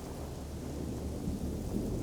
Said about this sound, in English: there is a thunderstorm happening